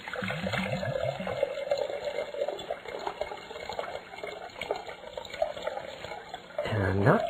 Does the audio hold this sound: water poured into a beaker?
yes